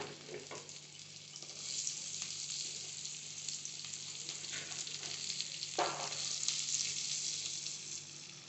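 Steady sizzling of onions frying in a hot pan, continuous and close, with a faint clatter of stirring partway through; no talking.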